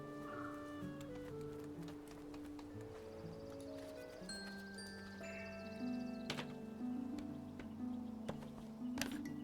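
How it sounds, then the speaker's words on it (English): A bird squawks in the Broken Age adventure game, its harsh cries sounding over layered, sustained musical tones and sparkly game effects. "Brack is what the bird said."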